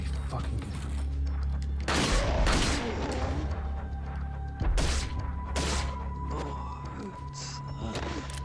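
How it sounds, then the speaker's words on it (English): Tommy gun bursts in the Resident Evil 4 sewers, sharp repeated volleys of automatic fire under a constant low rumble of game ambience, with louder clusters of shots near the start and middle. "He screws you over with a Tommy gun."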